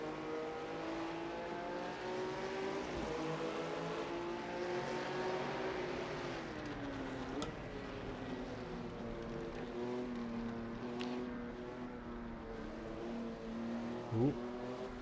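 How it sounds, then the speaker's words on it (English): A classic TVR Griffith engine in the Assetto Corsa driving game drones steadily with strong rising and falling harmonics, easing off and building again through gear changes, continuous and close with no talk. "Maybe that's a TVR Griffith?"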